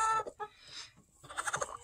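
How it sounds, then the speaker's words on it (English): A fluffy broody hen on a small farm clucks in a few short, close, fairly faint bursts, with brief pauses between them. "We've got some broody hens we're having an issue with."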